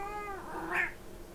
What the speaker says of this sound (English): There is my co-host, Ringo the cat.